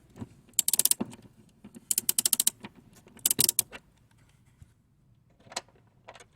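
Short bursts of metallic ratcheting clicks from a 14mm socket wrench working a seat bolt loose on a seventh-generation Toyota Celica passenger seat, in three or four close clusters with quiet gaps, and a couple of faint single clicks toward the end.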